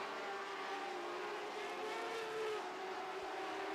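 Lightning sprint cars race around the track in a sustained, distant engine drone, with the pitch of several cars wavering as they battle for position.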